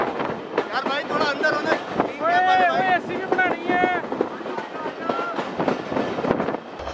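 The Ravi Express passenger train runs on the Shekhupura–Shorkot branch line in Pakistan, with up and down trains passing: a loud, busy rumble broken by sharp knocks and wavering tonal horn-like notes near the middle.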